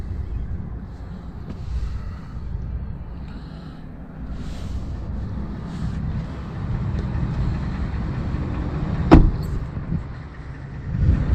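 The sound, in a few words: Ford F150 pickup truck engine running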